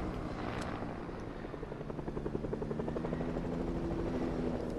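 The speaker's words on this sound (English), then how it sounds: "Who is flying the helicopter?" A helicopter flying in the video game Fortnite, its steady rotor thrum with a pulsing beat building slightly louder over the few seconds, heard alone at moderate distance.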